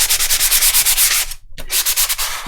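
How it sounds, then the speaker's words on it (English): Ultra fine sandpaper is rubbed quickly back and forth over a painting surface, giving loud rhythmic scratchy strokes with one short pause before the sanding resumes. "I'm just going to give it a quick sandpaper with ultra fine sandpaper"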